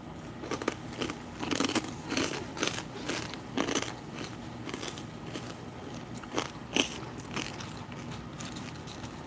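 Crunchy toasted corn nuggets from an MRE ration being eaten, with repeated loud close bites and crackling chews in an irregular rhythm, no talking.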